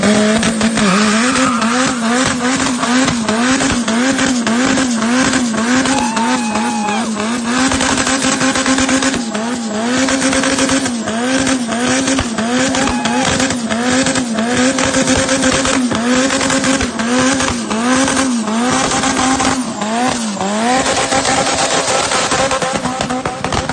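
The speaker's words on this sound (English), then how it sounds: "did a big smoky burnout for him, and I'll insert that somewhere in here" A Turbo GSR sedan does a smoky burnout, its engine holding a loud, steady high-revving wail for the whole stretch while the tires squeal continuously and the pitch wavers with the throttle, close and without any talk.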